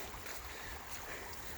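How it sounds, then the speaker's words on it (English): A stream of running water on a nature walk makes a soft, continuous rushing wash, faint and steady and heard alone without voices. "That's some running water."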